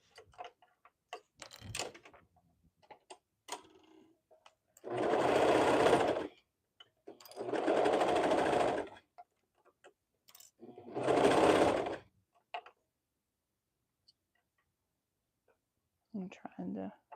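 A sewing machine stitches the side seams of a hoodie in three loud bursts of a couple of seconds each, separated by pauses filled with small handling clicks and a few soft words.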